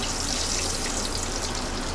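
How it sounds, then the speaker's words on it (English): Hot pan drippings are poured over pan-seared pork chops resting on a rack, giving a continuous loud hiss and crackling sizzle that holds steady throughout. "we'll pour our pan drippings over the pork for that final little sizzle"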